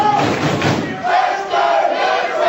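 A wrestling crowd chants for Mason, a dense roaring mass of voices that swells in two rhythmic surges, loud and close, with no other sound standing out.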